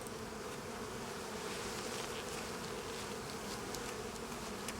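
Honey bees buzz at the hive, a dense, steady drone of many insects close by, unbroken for the whole stretch with no voices.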